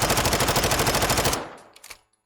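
A Vaznev rifle in Call of Duty: Modern Warfare II fires a rapid, loud burst of about a dozen evenly spaced shots, then cuts off into a short tail with a couple of faint clicks.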